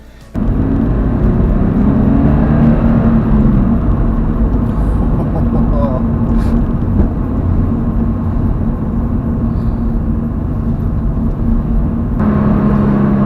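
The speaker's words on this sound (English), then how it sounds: "take this car on a nice little test drive" A Toyota GT86 sports car on a test drive, its engine and road noise forming a loud, steady drone heard from inside the cabin throughout.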